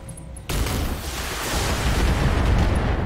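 Heavy weapon fire in the mech combat game Battletech, a sudden loud blast that opens into a sustained roaring barrage of rumbling detonations, rising slightly in intensity after a quieter start.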